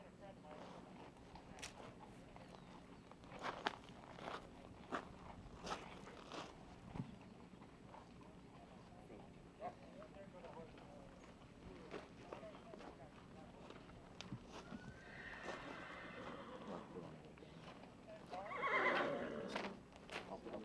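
Horses ridden at a walk along a wooded ranch trail at Rancho del Cielo, with faint hoof clops and harness noise under outdoor ambience, a horse's snort or whinny near the end, and people talking between riders.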